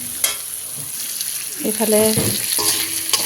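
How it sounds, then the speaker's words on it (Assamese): Fish frying in oil in a pan at home, a steady sizzle with scraping stir sounds, a short word spoken over it. "ভাজি আছোঁ, এতিয়া মাছখিনি অকণমান ভাঙিছে"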